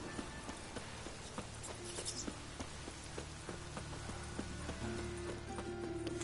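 A horse's hooves clip-clop at a steady trot in the video game Witcher 3, with regular, fairly quiet hoof strikes over soft background ambience.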